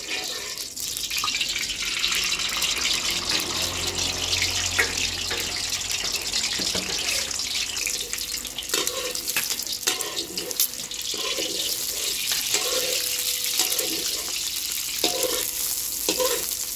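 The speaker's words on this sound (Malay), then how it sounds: "Lepas tu kita goreng 2 biji telur." Two eggs fry in a little hot oil for kuey teow, giving a steady close sizzle with scattered spatters and light clinks of a utensil stirring, continuous throughout without speech.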